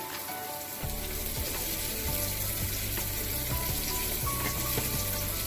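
Vegetables sauté in a hot pan, a steady broadband sizzle running continuously, close and fairly loud, with occasional clinks and soft knocks from utensils and kitchen water sounds behind it.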